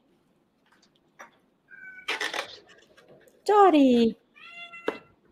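A cat lets out one loud, close, drawn-out meow, framed by softer chirps and scattered household voices talking nearby.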